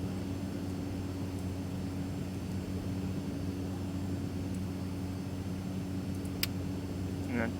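A steady airplane engine drones in the X-Plane flight simulator, an even, continuous hum with faint tonal layers and a couple of small clicks near the end.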